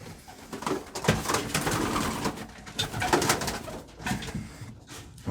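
Borrowed pet doves or pigeons coo repeatedly close by, soft throaty calls rising and falling in uneven bursts with no talk over them.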